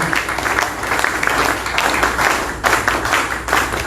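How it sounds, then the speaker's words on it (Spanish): Audience applause at an agriculture and social agenda event, a steady wash of many hands clapping that swells and dips in waves, fairly loud and filling the whole stretch with no voices over it. "Un gran aplauso para ella también"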